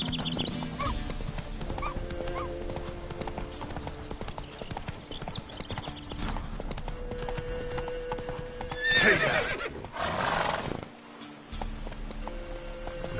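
A horse gallops and neighs in The Witcher 3 video game, with steady clip-clop hoofbeats throughout, a whinny partway through, and game music faintly underneath.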